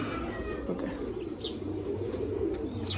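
Pigeons coo softly and continuously at close range, a low murmuring burble with a few faint higher chirps above it.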